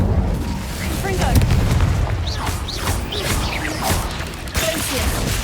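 Confringo blasting spell from Hogwarts Legacy, a series of booming explosive blasts with whooshing bursts over a steady rumbling game soundscape, loud and continuous throughout.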